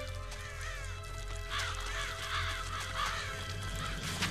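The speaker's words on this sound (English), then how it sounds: "here come the birds" Crows caw repeatedly in the video game Metal Gear Solid: The Twin Snakes, a flock of harsh overlapping calls over a steady game ambience and low hum.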